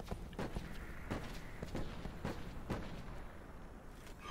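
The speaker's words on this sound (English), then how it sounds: "I see what they're shooting at." Gunfire in the Call of Duty: Black Ops 4 video game, with a rapid string of loud, sharp shots and booming reports layered over dense game noise.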